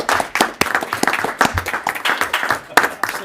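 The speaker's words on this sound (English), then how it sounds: "let's give Paul as well as Alan and Jen a round of applause" Audience applause fills a school board meeting room, a dense, steady patter of many hands clapping for about three seconds at moderate loudness with no clear break.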